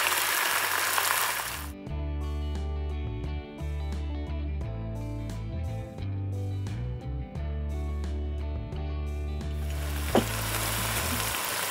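Ground spice paste sizzles loudly with garden brinjal in hot oil. The hiss is clearest at the start and end, and steady tonal music plays over the middle.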